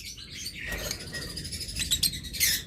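Lutino opaline pet birds chirp in quick, high, bright bursts, close by and fairly faint over a soft background hiss, with no talking.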